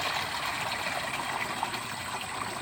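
Water pours steadily into a farm sprayer tank, a continuous close trickling gush with no talk over it.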